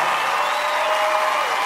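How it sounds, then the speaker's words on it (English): An audience on its feet in the Clyde Auditorium, applauding and cheering in a dense, steady wash of clapping with crowd voices mixed in, loud and sustained for the whole moment. "Listen to that cheer."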